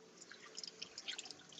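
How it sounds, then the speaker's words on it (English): Water from a tap runs steadily at close range, a soft continuous splashing and dripping with small irregular spatters, fairly quiet and with no voices. "I'm running water for GD."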